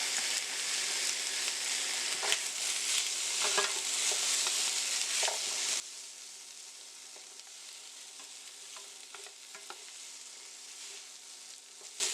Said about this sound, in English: we are adding this without the liquid because we are going to brown the beef